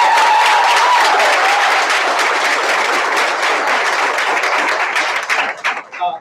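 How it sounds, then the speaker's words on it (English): An audience at a school board meeting applauds a student choir, with sustained dense clapping that holds steady for several seconds before thinning out and fading near the end. "So they do deserve a round of applause."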